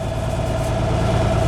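A 1981 International cab-over truck idles after its first start in years, giving a steady low engine rumble with a faint constant hum, close and even throughout.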